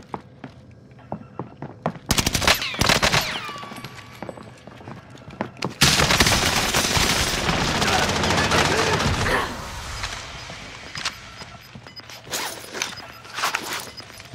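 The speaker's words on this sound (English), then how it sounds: "I'm gonna throw this decoy grenade." Decoy grenade in Call of Duty Warzone faking gunfire: bursts of rapid shots around the two-second mark, then a long, loud stretch of continuous firing, with scattered single shots and mechanical clanks after it.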